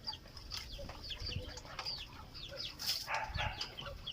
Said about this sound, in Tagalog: papakainin lang natin muna ngayon ang alaga nating itik